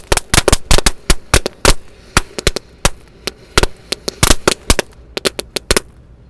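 Firecrackers and petasan buried in the ground go off in a rapid, irregular string of sharp, loud bangs, some in quick clusters and others spaced apart, ending in a final burst of pops.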